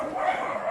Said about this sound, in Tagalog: Ginising niya yung mga natutulog na aso doon.